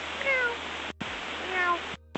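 Someone meows repeatedly over a pilots' radio channel, a voice imitating a cat. The calls come in two bursts, each clipped by a squelch break, over a steady radio hiss.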